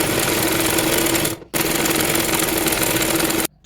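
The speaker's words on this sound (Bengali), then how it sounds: "এবার বডির মাপ অনুযায়ী এই সাইড সেলাই করে নিচ্ছি।" Loud, steady mechanical whirr of a sewing machine stitching the side seam of a baby dress, running in a long burst, stopping briefly, then running again before cutting off.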